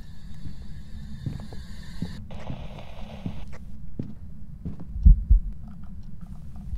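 Heartbeat sound effect from the horror video game Phasmophobia: low, muffled thumps pulse at a steady rhythm under a faint electronic hum, with a couple of heavier thuds near the end.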